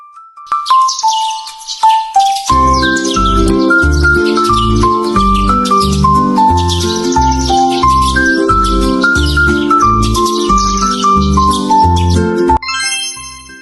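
Bright tinkling chirps imitating a small sparrow sing merrily over a bouncy synthesized children's tune, playing steadily and loud throughout.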